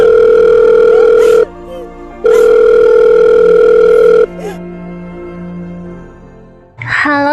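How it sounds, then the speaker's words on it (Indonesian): Loud, steady telephone tones from a phone being dialed in the video game Sakura School Simulator sound in long beeps separated by brief gaps, followed by a lower hum and a short burst of noise at the end. "Iya Alex, bentar ya gue telepon ambulan dulu."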